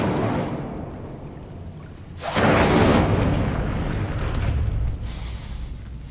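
Incendio fire spell cast in Hogwarts Legacy near a locked gate: a sudden loud whooshing burst of flame that roars for under a second, then settles into a lingering fiery rumble.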